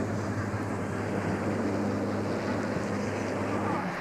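A wartime Avro Lancaster bomber, one of the last airworthy examples, drones overhead at a ceremonial flypast along the Mall, a steady broad engine roar with no break and no voices.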